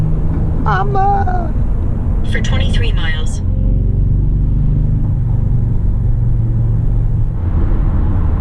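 Road traffic rumbles steadily while heading toward San Bernardino, a low continuous drone of cars heard from a moving vehicle, with a person talking over it.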